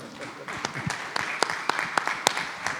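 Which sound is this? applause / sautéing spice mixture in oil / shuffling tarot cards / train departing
applause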